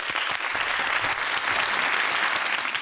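A studio audience claps after a televised youth debate, a dense and continuous burst of applause from a crowd, loud and close throughout.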